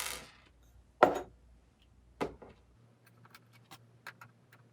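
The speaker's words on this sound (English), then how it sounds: "Now I'm going to put my screws back in." Screws being driven back into a tinkered Starry Sky Galaxy toy box, heard as a few sharp metallic clicks and short rattles spread across a quiet background, close and fairly faint.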